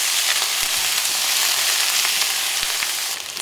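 Tomatoes and vegetables sizzle steadily in a hot pan with lamb and green chili, a dense continuous frying hiss with a few soft clicks of a stirring spoon against the pan, close and fairly loud with no talking.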